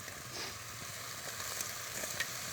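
Pieces of chicken meat sizzle in hot oil in a pan for a mushroom chicken dish, a steady close hiss and crackle with a few sharper pops and no voices.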